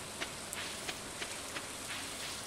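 Soft, steady in-game rain patters throughout in Stardew Valley, a continuous hiss with a few faint drip-like ticks scattered across the quiet scene.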